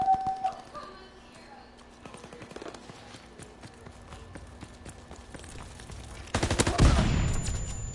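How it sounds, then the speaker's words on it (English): Video game gunfire in sharp, scattered shots with a dense loud burst near the end, heard under quiet background activity. "he can shoot me through this"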